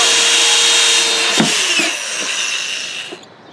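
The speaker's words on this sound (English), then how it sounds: "what we're going to do is go ahead and put a couple drain holes in the bottom." Drain holes drilled with a 1/4 inch bit into the bottom of a wooden duck box, a loud, close, continuous whirring grind that fades slightly toward the end, with no voices.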